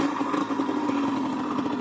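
A Yamaha DT 50 X motorcycle engine runs steadily just after being kick-started, a close, even idle rumble that carries on without a break.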